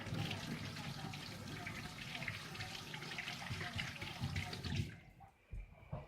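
Tap water runs steadily from a faucet into a sink while hands are washed, a broad continuous splashing rush that stops abruptly near the end, leaving brief quiet handling noises.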